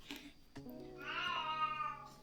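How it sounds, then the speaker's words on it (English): A domestic cat meows in a drawn-out, rising and falling call lasting over a second, close and fairly loud, following a few shorter soft vocal sounds in a quiet room. "That's my cat."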